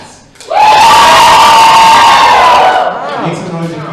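Crowd at a drag comedy show erupts in loud cheering and whooping after a brief spoken prompt, the roar sustained for about two seconds before fading into scattered shouts.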